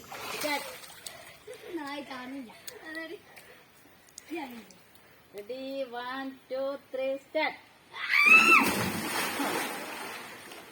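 People talk and call out by a pond, then near the end someone jumps into the water with a loud, close splash and sloshing.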